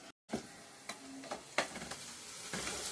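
Onions, green chillies and curry leaves fry in a pan for an Andhra-style mutton dry curry, giving a steady close sizzle broken by a few sharp stirring clicks, with no talking.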